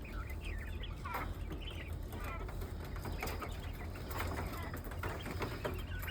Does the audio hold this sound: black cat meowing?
no